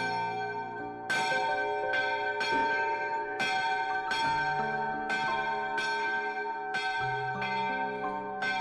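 A bell in a village belfry built in 1850 in the Kysuce region of Slovakia tolls about eight times in a slow, even rhythm, each strike ringing out and overlapping the next with no voices.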